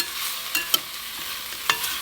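Garlicky vegetables frying in a pan under a soft, even sizzle, with a couple of sharp spatula clicks and scrapes as they are stirred, close and without talk.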